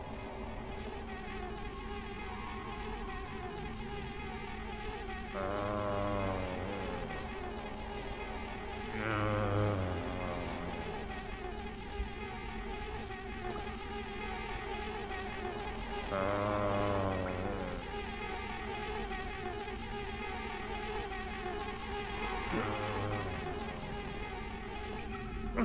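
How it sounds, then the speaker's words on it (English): Bees or flies buzz steadily in the Thief video game, a constant insect drone that swells and fades in waves over a low ambient hum. "I don't know if these are the stinging bees, the kind of flies, or just the noisy ones."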